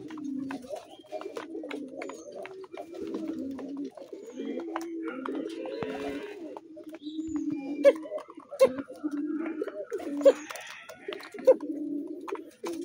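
Pigeons coo repeatedly in low, rolling calls close by at a loft, the burbling phrases overlapping and continuing throughout, with a few sharper taps and flutters later on.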